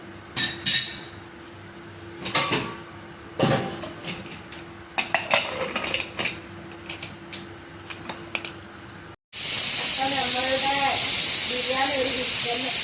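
Scattered clinks and knocks of kitchen utensils, then an abrupt loud, sustained hiss of steam from a pressure cooker whistle while cooking chicken biryani.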